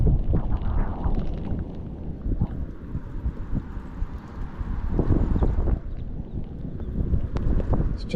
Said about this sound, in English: It's just this headwind.